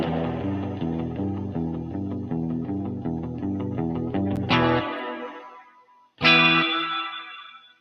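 Universal Audio spring reverb pedal set to its dual Showman circuit: a steady rhythmic strummed pattern with no one talking, then two loud struck chords that ring out and decay with a clear reverb tail.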